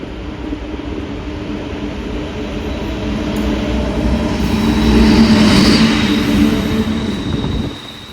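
The Basava Express passenger train rolls past close by, with a steady rumbling roar that swells to a peak and then fades off abruptly, with no voices.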